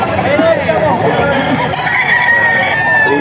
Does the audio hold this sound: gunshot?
no